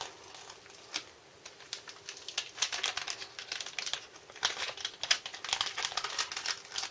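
Crinkly tearing and rustling of a foil MRE lemon and lime beverage powder packet being pulled open by its tear strip, a run of close, fairly loud crackles with no talking.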